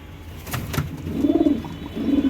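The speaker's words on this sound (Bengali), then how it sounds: "আমার ঘরের অনেক পুরনো পায়রা।" Two close, low pigeon coos roll out one after another from birds in an old home loft, soft and throaty with no talking.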